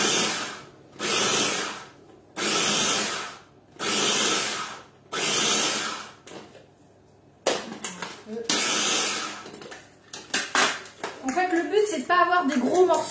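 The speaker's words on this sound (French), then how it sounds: "je vais mettre mes petits champignons dans mon hachoir. Et pareil, je vais mixer un petit peu" Electric chopper mincing mushrooms in a home kitchen, four loud bursts of whirring each lasting about a second, then a pause and more irregular chopping and clattering with the motor running.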